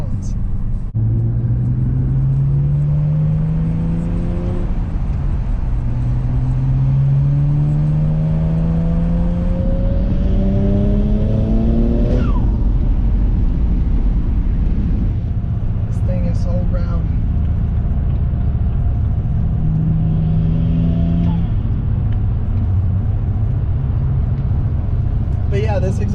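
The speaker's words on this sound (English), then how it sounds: "this exhaust with just the resonators and then the 4-inch tips is like the perfect combination" A BMW 335i with a resonator exhaust and 4-inch tips rumbles while driving and revs up in several rising pulls, heard close and loud from inside the car. The level stays steady throughout.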